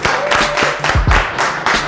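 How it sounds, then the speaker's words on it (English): Audience applause at a cooking competition, a brief burst of clapping from a small crowd with a few louder individual claps and some voices underneath. "Clap it up for him, clap it up for him"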